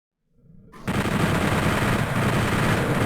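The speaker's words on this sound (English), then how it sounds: "Here, just use the chain gun." Chain gun firing in Doom 64, starting after a short silence and then running as a dense, continuous loud burst of rapid shots through to the end.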